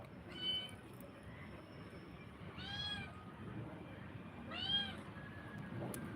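A cat meows a few times at close range, drawn-out harmonic cries spaced across a quiet room with low background noise and no speech over them.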